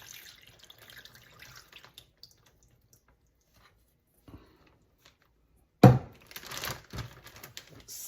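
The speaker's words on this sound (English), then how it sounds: "And then in goes our marinade." Marinade poured over steak meat in a bag, a brief liquid splash and sloshing that starts suddenly after near silence, followed by soft crinkling and wet squishing up close.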